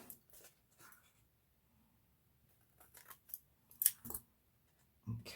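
Scissors snip off excess material in a quiet indoor craft setting, giving a handful of faint, close, crisp cuts in short irregular bursts with no talking.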